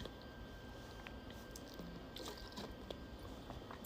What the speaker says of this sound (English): I am going to have to take a sip in my water,